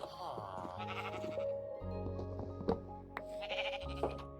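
Gray sheep in the video game Minecraft bleat in several wavering, nasal calls, close and clear over a layered game soundscape, with no voices.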